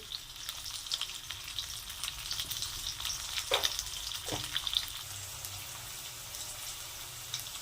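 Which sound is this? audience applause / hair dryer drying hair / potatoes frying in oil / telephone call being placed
potatoes frying in oil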